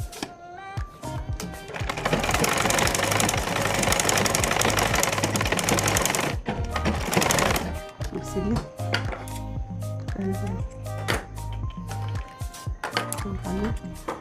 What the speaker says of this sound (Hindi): अब हम इसको सिलाई करके दिखाते हैं